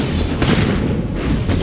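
A turret collapses in League of Legends with a dense, continuous rumbling boom and crunching debris, loud and sustained throughout.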